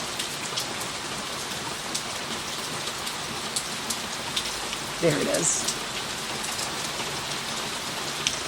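Heavy rain pours steadily outdoors as a dense, continuous hiss with scattered drops pattering on surfaces, and a brief voice cuts in midway.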